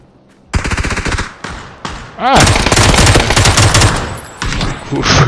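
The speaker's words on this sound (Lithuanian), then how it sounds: "Tuo tarpu Vytautas kažką nušovė." Loud, close automatic gunfire from a shooting video game, with a short burst followed by long sustained rapid-fire volleys and a brief pause near the end.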